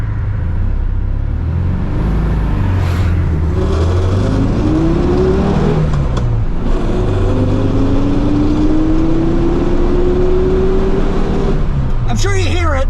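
A 1973 Volkswagen Super Beetle engine runs loud and rough up close, a steady droning rumble with rising revs, while a person talks over it.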